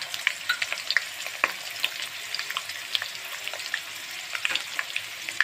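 Onion and garlic paste sizzling in a frying pan, a steady close hiss of hot oil dotted with many sharp pops and crackles, with no talk.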